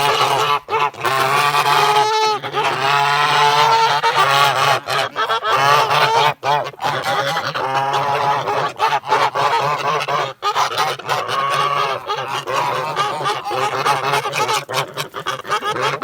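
Geese in a farmyard honking loudly and nearly without pause, a close, dense chorus of overlapping calls with a few brief gaps.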